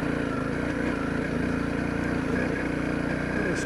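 A Honda CRF250L dual-sport motorcycle engine chugs steadily at low revs, a close, continuous throbbing drone that holds an even level throughout.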